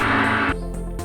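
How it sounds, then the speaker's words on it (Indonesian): A gong voice from a Yamaha DTX Multi 12 electronic percussion pad rings out as a broad, shimmering sustained tone, fairly loud and up close, then settles into a quieter, lower ringing hum after about half a second. "Wow, ini suara gong"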